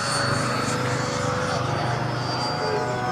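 An FMS Rafale 64mm EDF radio-control model jet makes a low pass left to right over a runway, its ducted fan a loud steady whine that fills the scene.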